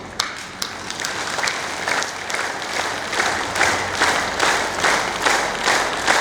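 An audience at a spiritual gathering claps hands, starting with a few scattered claps and building into steady rhythmic applause that continues to the end, loud and close.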